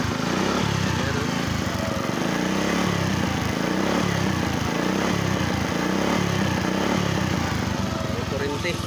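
A Kawasaki Bajaj CT 100 motorcycle engine runs steadily after starting, a close, buzzing small-engine drone that holds at a constant level, with people talking over it.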